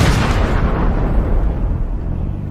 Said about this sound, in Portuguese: Termine o trabalho com um ataque da artilharia.